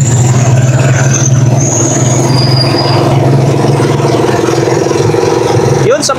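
Rusi Chariot 175 motor trike running on Bajaj motor oil, giving a steady, fairly quiet low engine hum that holds evenly throughout with no speech over it.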